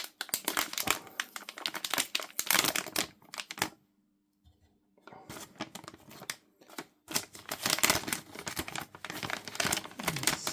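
Crinkly plastic bag rustling as a network interface card is drawn out of its small anti-static pouch, bursts of crumpling close up with a short quiet pause in between.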